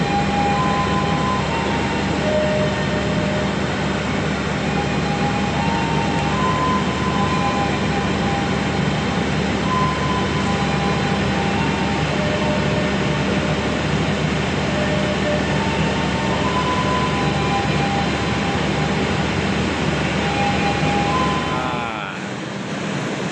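The Sancaka train stands at platform 1 of Surabaya Pasar Turi station, and a loud, steady locomotive drone hums with tonal whine for over twenty seconds before dropping off abruptly near the end.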